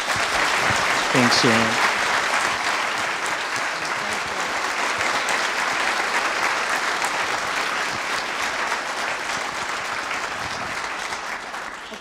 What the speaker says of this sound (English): I want to give Jeanette a round of applause.